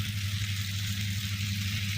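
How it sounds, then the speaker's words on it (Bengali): Paneer frying in refined oil in a frying pan, a steady, close hiss and crackle of hot oil with a low hum underneath, continuous and even. "এখন আমি এটা ফ্রাই করে নিয়েছি।"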